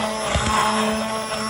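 Kitchen blender grinding black bean dip with peppers and onions, a steady, loud motorized whir with a droning hum, continuous and close throughout.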